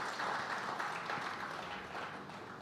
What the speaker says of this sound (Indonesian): Tepuk tangan untuk semua pihak